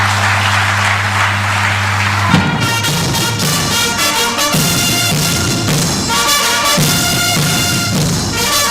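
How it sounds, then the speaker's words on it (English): A conference audience of customs service officials applauds, with dense, steady clapping throughout and a sustained low tone underneath at the start. "A resounding applause for the special guest of honor"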